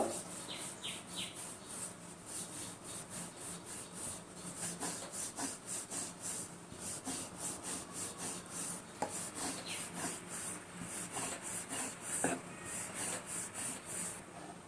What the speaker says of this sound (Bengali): রুটির মতন প্রথমে আমি বেলে নেব